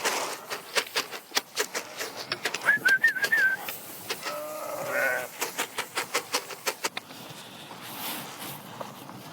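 Sheep bleat here and there amid a busy farmyard during a sheep-washing session, with rapid clattering taps and scattered bird calls, fairly close.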